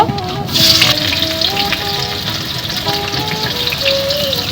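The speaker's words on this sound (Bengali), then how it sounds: "তেল গরম হয়ে গেছে এখন আমি তেলের ভিতরে পেঁয়াজগুলো দিয়ে দেব" Chopped onions sizzle and crackle in hot oil for chicken dum biryani, a steady loud frying hiss with faint clinks, continuous throughout.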